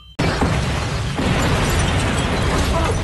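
A house explodes in a sudden loud blast after a brief quiet moment, followed by a sustained roaring, crackling rumble that continues to the end.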